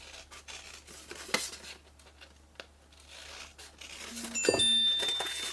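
Scissors snip through paper along score lines in a few short, quiet cuts with soft paper rustling in between, near and alone with no talk.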